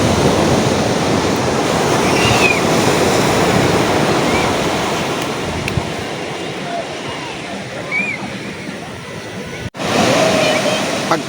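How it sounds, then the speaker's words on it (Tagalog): Rough, constant roar of strong sea waves crashing and surging nearby at a beach in Nasugbu, Batangas, with wind buffeting the microphone and a person speaking faintly underneath. "Pagkalakas ng alon"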